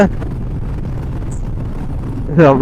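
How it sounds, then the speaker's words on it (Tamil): Strong gusts roar steadily across a microphone on a mountain road amid a landslide area, a loud continuous low rumble with brief voices near the end. "சரியான காற்று."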